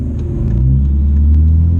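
A tuned third-generation Cummins diesel truck with modest modifications pulls away under power, a loud, steady low rumble swelling slightly and staying close throughout, with no talk over it.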